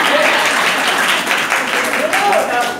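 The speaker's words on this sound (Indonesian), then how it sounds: "Tepuk tangan dulu." Applause from an audience at a teacher's talk, a steady broadband wash of clapping under ongoing voices, close and fairly loud throughout.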